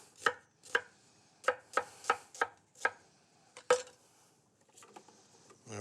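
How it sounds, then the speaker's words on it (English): A knife chopping white onion on a board: about ten crisp, separate thuds in a loose, uneven rhythm, close and clear with no talk, ending in softer scraping. "help this out a little bit and give it a chop before you put it in the food processor"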